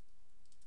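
A computer keyboard typed on briefly, a few quick soft key clicks close by at low level, nobody talking.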